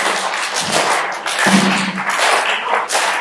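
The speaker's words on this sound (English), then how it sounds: "So take your hands and start to clap." A crowd at a talk on data security claps together in a dense, steady patter, loud and close, with occasional sharper thumps and no talking over it.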